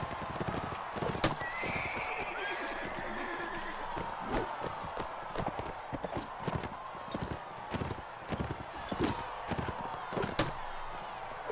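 Horse hooves and neighing during a siege in the video game Mount & Blade: Warband: a steady, close run of clip-clopping hoofbeats with a whinny early on, all under a busy background of battle noise.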